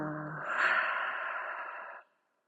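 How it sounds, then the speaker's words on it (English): One long, deep exhale through the mouth during a low-intensity yoga practice, close and breathy, swelling quickly and tailing off into silence after about two seconds. "Take a big inhale here. Exhale."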